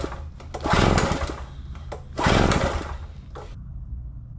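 Cheap Chinese two-stroke generator, long unused and run on fresh two-stroke mix, being pull-started: two loud rasping bursts of engine sputter with sharp clicks between, close by, catching briefly each time and then dying away, with no talk.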